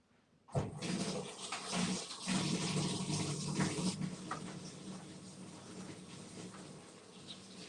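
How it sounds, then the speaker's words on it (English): Hands washed under a running tap, water switching on abruptly and pouring in a continuous close rush, with splashing and rubbing that eases slightly toward the end. "Let me just wash my hands real quick."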